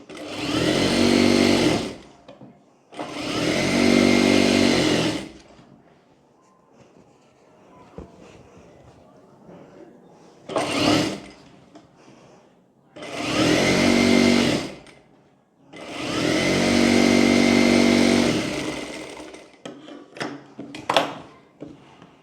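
An electric sewing machine stitches a kurti in five or six distinct bursts of rapid whirring, each a couple of seconds long, separated by brief pauses with faint handling noise, close and moderately loud.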